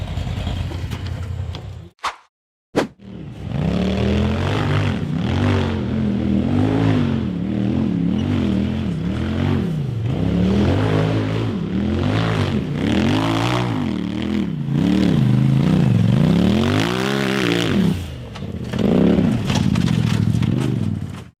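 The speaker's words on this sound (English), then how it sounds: "The silver buggy accelerated through the turn and climbed up a sloped dirt embankment" A silver off-road buggy climbs a sloped dirt embankment, its engine revving hard in rising and falling surges that repeat over and over, loud and close, after a brief clatter at the start.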